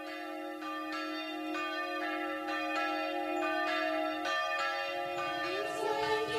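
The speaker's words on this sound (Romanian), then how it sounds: "văzduhul este străpuns de sunetul celor două clopote existente aici din vremea lui Ștefan cel Mare" Two centuries-old bronze bells of differing pitch in the tower of Humor Monastery, an Orthodox monastery in Romania, ring alternately at sunset vespers. The strikes come steadily about twice a second, and each clear, ringing tone overlaps the last.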